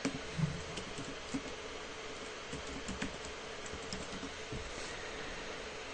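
Fingers tap out a search query on a computer keyboard, a quick, close run of light clicking keystrokes with a few louder presses near the start, over a faint room hiss.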